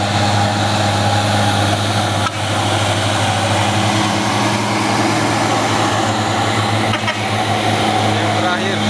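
Heavy Fuso 6x2 truck engine labouring up a steep hill, a loud, steady low drone with broadband roar throughout, close and continuous with no voices.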